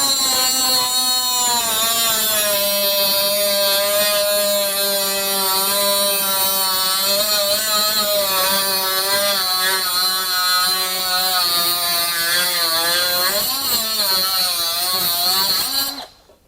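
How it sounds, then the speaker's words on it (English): Ryobi ONE+ HP brushless 18V cut-off tool grinding through 5/8 inch steel rebar, a loud, steady high-pitched whine lasting about fifteen seconds before cutting out abruptly. "Cut through that. I think that's 5/8 rebar."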